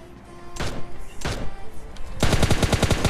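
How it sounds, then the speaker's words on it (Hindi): Gunshots from an AI bot in PUBG Mobile Lite: two separate loud shots, then a rapid burst of about a dozen automatic rounds at close range. "ये बॉट देखिए सड़क के बीच में बैठ के कैसे गोली पे गोली बजा रहा है"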